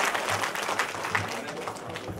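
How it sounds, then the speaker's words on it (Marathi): An audience at the Mumbai mayor's award ceremony claps steadily, a full, close wash of applause with voices murmuring through it. "जोरदार टाळ्या प्रत्येकासाठी वाजल्या पाहिजे"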